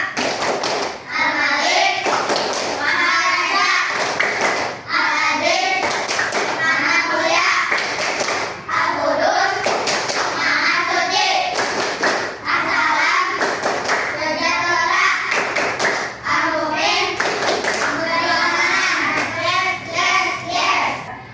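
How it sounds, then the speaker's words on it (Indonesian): Children in a classroom perform a rhythmic clapping chant, the tepuk Asmaul Husna, with sharp clap bursts in a repeating pattern between sung or chanted phrases, loud and close throughout. "Kita mulai tepuk Asmaul Husna."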